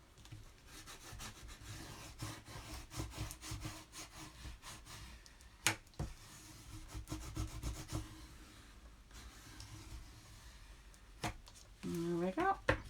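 Paper being burnished down by hand in an 8x10 men's memory book, giving repeated soft rubbing and scraping strokes with occasional taps and a brief squeak near the end.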